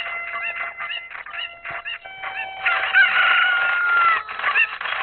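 Chicken clucking and crowing from the Ocarina of Time video game: a run of short, close, repeated clucks, swelling into a longer, louder crow-like call near the middle before more clucks. No one speaks.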